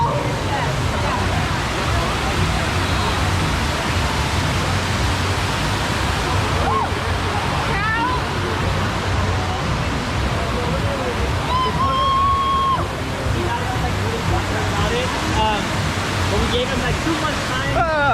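Steady, loud rush of flowing water in the lazy river pool at the MGM Grand in Las Vegas, continuous broadband splashing throughout, with voices faintly mixed in.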